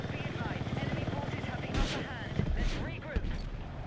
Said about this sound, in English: Okay, we got a helicopter. We are flying in the city.